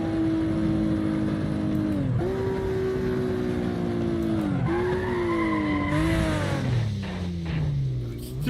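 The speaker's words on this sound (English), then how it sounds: "this thing is sliding off the goddamn track" Race car skidding and sliding off the track in the racing game Assetto Corsa, a loud, continuous engine whine that drops and climbs through gear shifts under a steady scrape of tire squeal.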